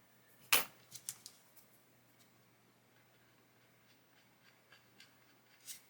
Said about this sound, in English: come along there with a knife, just slice through that